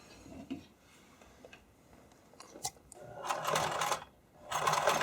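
A sewing machine runs a short straight stitch on fabric for skate covers, with a few quiet ticks and handling clicks before two bursts of rapid motor-driven needle rattling up close.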